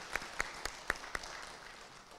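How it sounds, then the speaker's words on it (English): At a school district spelling bee, a few sharp, evenly spaced claps ring out about four times a second before trailing off into a faint, thin patter of clapping that stays quiet throughout. "Can we get a round of applause for our spellers"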